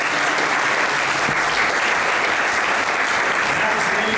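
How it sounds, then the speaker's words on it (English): Strong, continuous applause from attendees at the Chesapeake Executive Council annual meeting, a thick even wash of clapping throughout. "So I want to give the Interior Department a great round of applause."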